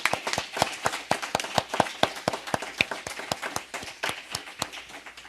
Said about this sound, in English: give thanks and a round of applause for their time with us.